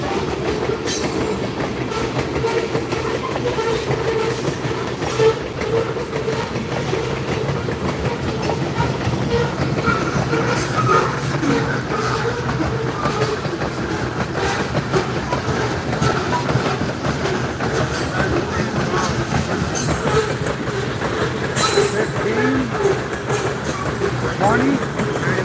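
A moving freight train clatters steadily along the rails with continuous rumbling and periodic clicks and clanks, close and loud, while people talk over it.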